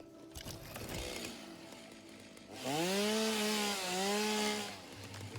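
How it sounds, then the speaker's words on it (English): A chainsaw in the game Satisfactory cuts down a tree: a low idle rumble, then the engine revs into a loud, sustained whine that dips briefly in pitch mid-cut before dropping back to idle, with no talk. "Let's go ahead and put my chainsaw on and take this out."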